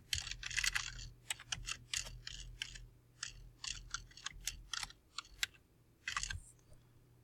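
Clicky keystrokes on a computer keyboard type out a name, coming in quick irregular bursts with short pauses, close and fairly quiet over a low steady hum.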